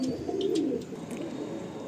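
Madrasi pigeons, a Kaldum male and a white female, coo in a low, close rumbling run that fades into quieter murmuring, with faint clicks over it.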